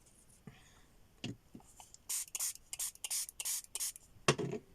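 Soft, close brush strokes apply watercolor across paper in a series of short swishes, some quick and some drawn out, with quiet pauses between them.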